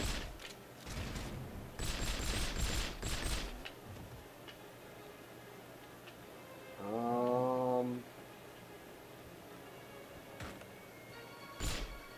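Gunfire from the James Bond video game From Russia with Love in an Istanbul level: a rapid burst of shots over the first few seconds, then a brief tonal game sound and one last sharp shot.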